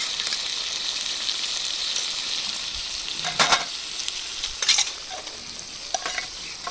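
Chicken masala with dried red chillies, green chillies, ginger, cumin and peppercorns fries in a pan in rural India, a steady close sizzle with a few louder bursts of spattering and stirring.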